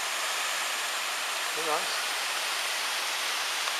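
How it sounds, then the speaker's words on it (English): Steady rushing roar of a waterfall fills the scene, with a brief spoken word partway through. "Every waterfall just seems to get better."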